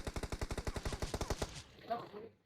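Rapid automatic gunfire from a PUBG Mobile match, a fast even burst of about fifteen shots lasting roughly a second and a half, then a brief scuffle of game sounds as it stops.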